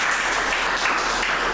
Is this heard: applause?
yes